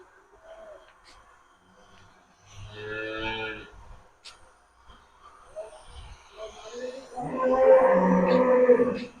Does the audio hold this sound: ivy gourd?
no